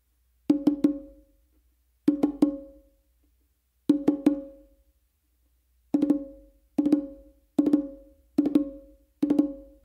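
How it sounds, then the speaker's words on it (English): Open tones on the hembra of a bongo, struck with alternating hands, in close ringing hits grouped in pairs and triplets with short gaps, clean and without talk. "So what I do is I do one open with my dominant hand on the hembra,"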